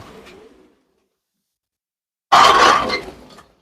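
A pigeon on a pigeon farm gives one loud, close, throaty coo lasting about a second, after a faint brief sound and a stretch of silence.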